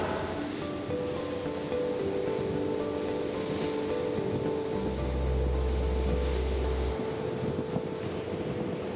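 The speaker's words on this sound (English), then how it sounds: "we use our high-pressure salt water, and we use the pumps to pump, it's almost like an umbrella of water over the deck" High-pressure salt water sprayed from pumps over the flight deck of the aircraft carrier HMS Ark Royal, a steady broad rushing hiss mixed with wind noise and a low machinery hum, with a deep droning tone joining midway.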